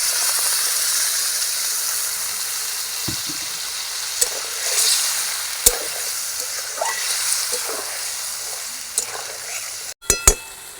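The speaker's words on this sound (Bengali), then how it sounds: "একটু হালকা ভেজে নিয়ে হালকা জল দিয়ে কষিয়ে নেবো আলুটা।" Potatoes frying lightly in a pan, a continuous close hiss and sizzle with occasional stirring scrapes, then a sharp burst of louder spitting near the end as a little water goes in.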